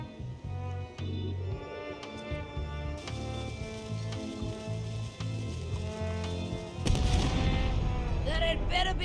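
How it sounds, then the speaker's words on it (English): Cannon fire in the video game Return to Monkey Island, a booming blast bursting out near the end over a layered game music bed. "Ready for cannon firing."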